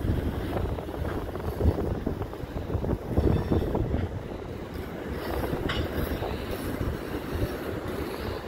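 A train rumbles past steadily with clattering wheels and a faint metallic squeal, a continuous close roar lasting the whole stretch.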